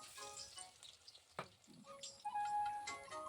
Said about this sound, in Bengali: একে একে আমি সমস্তগুলোই ভেজে নিচ্ছি।